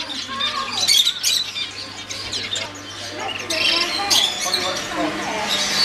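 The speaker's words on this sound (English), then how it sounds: "Birds." Several birds squawk and chirp loudly and close by, harsh repeated calls overlapping with people talking nearby.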